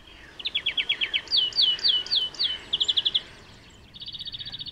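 A greenfinch sings a sequence of rapid trilled phrases and repeated chirping notes, clear and fairly close, with a quiet outdoor background and no voices.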